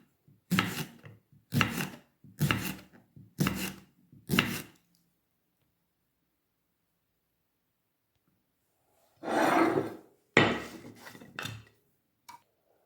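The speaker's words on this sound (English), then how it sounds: "So I'm just gonna slice it on this." Knife slicing through unpeeled garden cucumbers on a board: five crisp, evenly spaced chops, a pause, then a few quicker cuts, close and clear with no talking.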